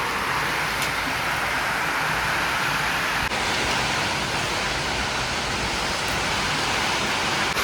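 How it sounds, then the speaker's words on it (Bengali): Heavy rain pours steadily outside a house during a sudden storm, making a dense, even hiss close by throughout. No distinct thunder stands out. "মানে এত খারাপ ভাবে বৃষ্টি আসলো।"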